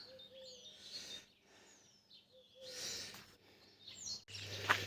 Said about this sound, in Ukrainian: Так співають пташки.